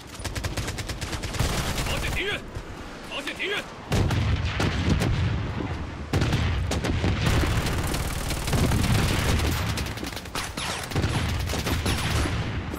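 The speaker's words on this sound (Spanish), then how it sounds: "Se siguen disparando, ¿eh?" Dense video-game gunfire from the shooter Project Blood Strike, with rapid automatic bursts and heavy booming shots packed together over the full length, loud and continuous, while a player talks faintly underneath.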